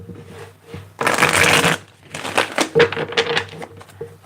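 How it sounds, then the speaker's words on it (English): A deck of tarot cards is shuffled by hand in a few quick riffling bursts, close and crisp, with brief pauses between them. "Let me get 3 more shuffles here."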